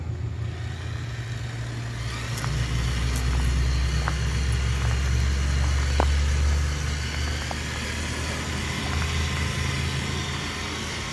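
An RC Toyota Hardbody truck fitted with RC4WD shocks drives along, its small motor giving a steady, fairly loud drone with occasional sharp ticks and rattles from the chassis.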